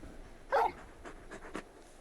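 Torgal, the large wolf-dog companion in the video game Final Fantasy XVI, pants and whimpers softly in short breathy bursts, close and fairly quiet, with no speech.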